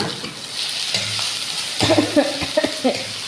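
Vegetables for tandoori bharta frying in oil, a steady sizzle with a few clattering stirs and utensil knocks toward the end.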